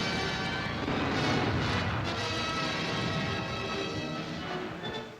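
Artillery and anti-tank fire in World War II combat against a German assault gun in Holland, a dense continuous rumble of booming gunfire and blasts filling the whole stretch, loud and without any voices.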